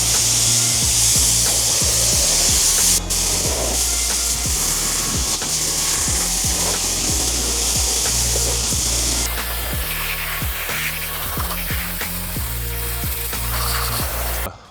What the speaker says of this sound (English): Now that we've let it sit for about 3 to 4 minutes, time to rinse it off.